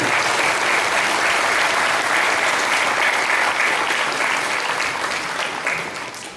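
A crowd at a gymnasium ceremony claps steadily in dense, sustained applause that fades out over the last second or two.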